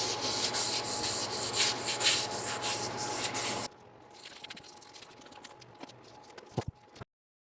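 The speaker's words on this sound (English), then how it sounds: "Sand it up to 400 grit." Rhythmic rasping strokes of sandpaper against ambrosia maple spinning on a lathe, loud at first, then quieter scratchy rubbing before it stops.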